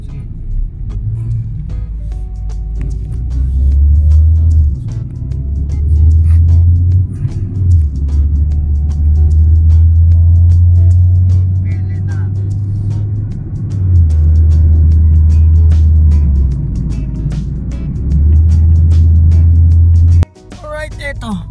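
Car driving on a highway near San Fernando, with a steady low engine and road rumble that rises and falls through gear changes, loud and close, under a voice talking.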